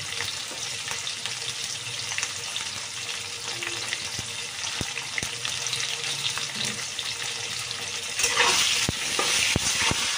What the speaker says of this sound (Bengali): নুন হলুদ দিয়ে আলুটাকে সুন্দর করে আগে ভাজবো